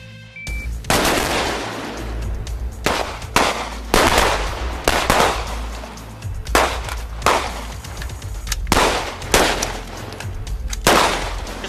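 Repeated gunshots from a carbine and pistol shooting drill on a range, about ten sharp loud cracks fired in a steady, evenly spaced string with short pauses between shots.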